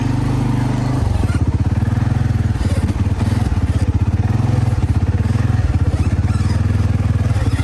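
A Polaris General XP1000 side-by-side off-road vehicle drives through ruts on a forestry road, its engine dropping to a low, steady pulsing throb with rattles and scrapes, recorded close from onboard.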